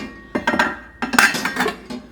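Cooking pots and utensils are handled in a home kitchen, metal clanking and clinking in two short clustered bursts close by, with no talk.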